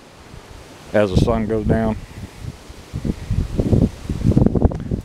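Strong wind gusting at a lakeside park in November, buffeting the microphone and rustling around a campsite, loud gusts rising and falling under a voice.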